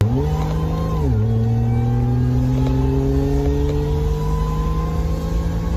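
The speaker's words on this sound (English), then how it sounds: "And at full throttle, it sings you the song." Supercharged engine of a Ford Thunderbird SC revving hard at full throttle, loud and close, its pitch climbing, dropping briefly around one second, then rising steadily again in a sustained wail.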